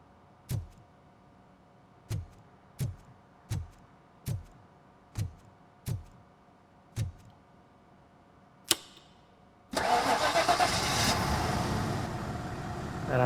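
Car engine in the video game RoboCop: Rogue City, after a disconnected ignition coil: about nine evenly spaced dry clicks, then the engine suddenly roars to life with a loud, steady rumble.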